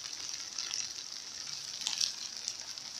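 Onion slices sizzle in a hot pan while cooking for chicken shawarma. The frying hiss is soft and steady, with faint crackles rising briefly, and no one speaks.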